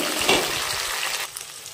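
Sliced onions fry in a pan as chopped tomato and green chili go in, a steady close sizzle with a brief stirring scrape near the start, then the frying quiets and softens toward the end.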